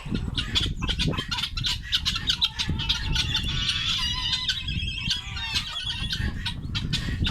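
Guinea fowl squawk in a steady, harsh chorus close by in a poultry yard at morning release, calls overlapping densely without pause, alongside chickens.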